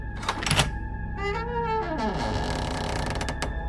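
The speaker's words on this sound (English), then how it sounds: "I opened the closet door" A closet door creaking open, a drawn-out squeal whose pitch bends downward after a few sharp knocks, close and fairly loud, with no speech.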